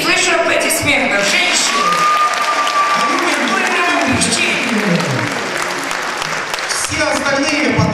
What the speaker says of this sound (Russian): И слышу аплодисменты